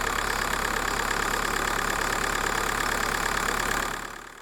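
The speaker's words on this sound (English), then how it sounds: "So I'll just lift it just above idle and you might be able to see the engine rocking a bit, which is a bit of a misfire." Skoda Fabia 1.9 TDI PD diesel engine held just above idle with a misfire, a steady close rumbling drone with a slight uneven knock that fades away at the end.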